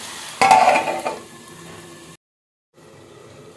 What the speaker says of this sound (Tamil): இப்போ மசாலாவோட சேர்த்து கறி வந்து வதங்கிட்டுருக்கு